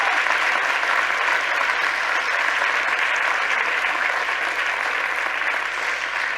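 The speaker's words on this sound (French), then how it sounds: "On peut l'applaudir très fort, je pense." A conference audience at a round-table session applauds loudly and steadily, a dense, even wash of clapping that holds without pause for several seconds.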